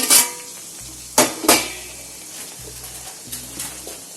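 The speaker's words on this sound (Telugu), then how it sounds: "ఆనియన్స్ అయితే వేగిపోయాయి కదా, ఇప్పుడు టమాటాలు వేసుకోవాలి." Tomatoes go into fried onions in a pan: loud close clanks and scrapes of a spoon against the pan, three sharp hits early then softer stirring over a faint sizzle.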